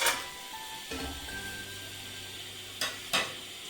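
Whole spices (cardamom, stone flower, cinnamon, cloves, star anise, bay leaf) and kasuri methi frying in a pan for chicken biryani, a faint steady sizzle with a few louder stirring scrapes near the end, no talking.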